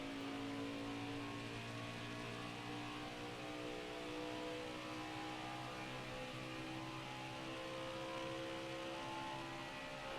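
NASCAR Heat 5 race car engines at Pocono hold a steady, faint whining drone with layered humming tones and no clear changes.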